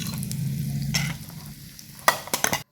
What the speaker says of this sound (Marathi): 2 मिनिटं छान असे फ्राय करून घ्यायचं आहे